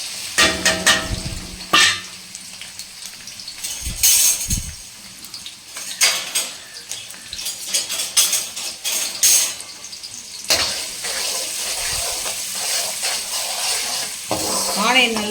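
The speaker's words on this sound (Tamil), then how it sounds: "ஆனியன் நல்லா வந்து வதங்கட்டுங்க." Onions frying in oil over a high flame, a hissing sizzle broken by repeated scraping and clanking as a spoon stirs the pan, close and fairly loud throughout.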